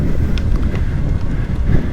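Strong wind buffets the microphone in a dense, continuous low roar with a storm coming in, heard while riding a Trek Domane+ electric bike on the road.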